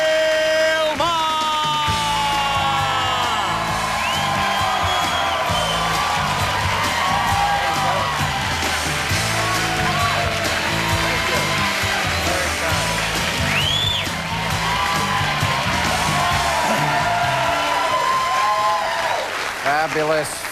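A studio audience at a late-night political talk show erupts in loud, sustained cheering, yelling, whoops and applause for the host's entrance, filling the room continuously with no break.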